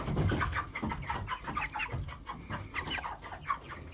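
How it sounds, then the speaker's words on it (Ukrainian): A Cobb 500 broiler rooster, 39 days old, clucks in short repeated bursts close by, fairly faint, indoors with no talk. "Це півничок."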